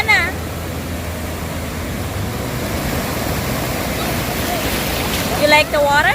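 Ocean waves breaking at a beach, a loud, steady wash of surf roaring continuously, with brief voices rising near the start and end.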